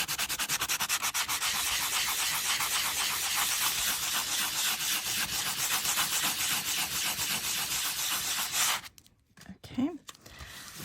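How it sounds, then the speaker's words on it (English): Brisk rhythmic rubbing as embossed metal tape coloured with alcohol ink is buffed, a close, steady scratchy back-and-forth for about nine seconds before it stops and a voice briefly speaks. "Just buffing the top."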